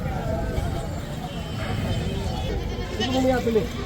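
Goats and young male kids bleat in short, wavering cries at a weekly livestock market in Kalamb, Dharashiv, rising louder near the end amid a steady crowd hubbub and people talking.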